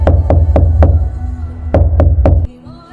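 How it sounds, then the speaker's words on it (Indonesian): Hard, heavy pounding on a house door comes in two bursts of four sharp thuds each, loud and close, with a short pause between the bursts before it falls quiet. "suara gedoran pintu terdengar"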